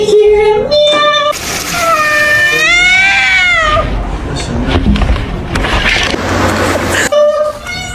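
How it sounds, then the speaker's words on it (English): A cat meows loudly at close range in several drawn-out, wavering calls, with rustling and handling noise between them. "Let me hear a meow."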